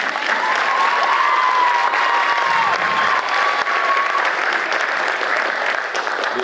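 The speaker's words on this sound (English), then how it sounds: "go ahead, clap, it's good." Dense, loud applause fills a high school spring sports awards night, many hands clapping steadily and evenly throughout, with a faint tone and a murmur of crowd underneath but no clear speech.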